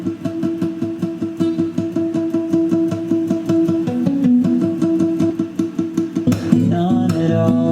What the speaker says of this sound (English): the first new element that I introduce is like a palm muted acoustic guitar that sounds like this